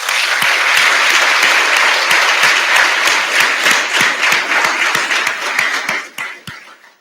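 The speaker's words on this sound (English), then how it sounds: "let's give these folks a round of applause" A crowd applauds at a Mississippi State Fire Academy graduation, a dense, loud, steady wash of clapping with some sharp individual claps standing out, tapering off toward the end.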